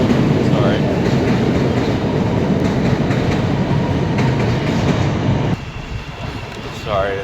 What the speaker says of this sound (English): Sorry, the train's pretty loud.